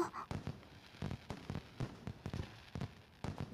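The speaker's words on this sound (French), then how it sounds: "On dirait des feux d'artifice." Fireworks in the video game Danganronpa 2 inside a factory, a series of faint crackling pops and muffled bursts scattered irregularly, quiet and distant.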